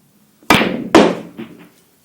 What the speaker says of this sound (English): we play off the cushion with side like that